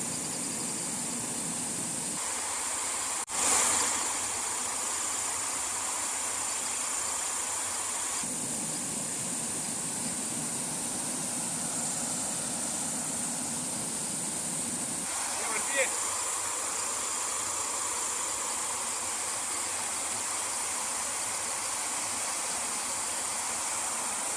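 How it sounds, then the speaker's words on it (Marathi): Night-time stream water flowing toward the Vashishti river in the Konkan, a steady broadband rush with insects chirping, plus a couple of brief bumps and handling noises along the way. "हा जो पाणी येतोय ना मित्रांनो पर्यावरचं पाणी येतोय डायरेक्ट तो जाऊन मिळणार आहे वाशिष्ठी नदीला"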